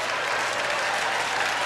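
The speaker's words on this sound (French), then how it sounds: "Tu peux me arrêter d'applaudir" Audience applause fills a live variety show in Quebec, a steady dense wash of clapping from the crowd, loud and continuous with no gaps.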